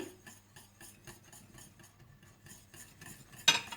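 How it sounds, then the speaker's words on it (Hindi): Spoon stirring a kulfi mixture of milk with pistachios and almonds in a pot, soft repeated scraping strokes in a quiet, close rhythm, with a brief louder clink near the end. "पिस्ते और बादाम डालकर अच्छी तरह से मिला लें।"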